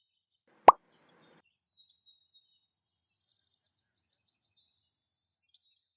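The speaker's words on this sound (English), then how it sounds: "Then stir in 2 tablespoons of tomato paste." Tomato paste drops into a pan of sautéed onions with a single soft, wet plop. Faint high bird chirps follow in an otherwise quiet kitchen.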